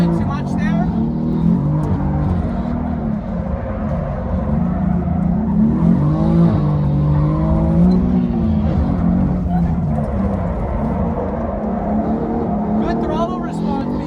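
BMW F80 M3 with an inline-six turbo drifting on a track, engine droning steadily with rising and falling revs, loud and close, with talking throughout.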